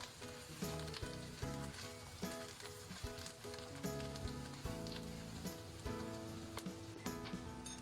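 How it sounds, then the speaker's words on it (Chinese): Garlic scapes and eggs stir-fry in a hot wok with a steady, dense sizzle, broken by several quick spatula scrapes and clanks as the food is tossed; close, constant, and without speech. "下入鸡蛋，快速的翻炒2下，炒匀。"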